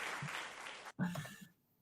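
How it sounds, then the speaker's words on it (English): A prerecorded applause effect plays back during an online show, a short burst of clapping and cheering that cuts out briefly, then resumes before fading away. "we'll just run the applause again"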